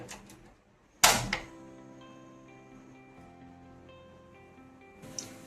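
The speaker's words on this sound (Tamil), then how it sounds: "பாத்திரத்தை எடுத்து வச்சு அடுப்பை பற்ற வச்சுக்கோங்க." A cooking pot is set down on a kitchen stove while Madurai-style chicken biryani is being made. One sharp, close metallic clank rings on faintly for several seconds, and a softer knock follows near the end.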